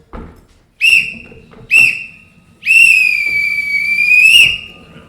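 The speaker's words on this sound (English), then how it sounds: "I do have a real whistle." Two short shrill whistle blasts followed by one long sustained whistle blast, loud and close, with faint background rustling.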